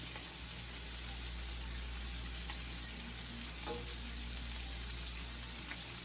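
Bacon strips frying in a pan, a steady, dense sizzle and crackle holding at an even level with a few faint clicks and no talking.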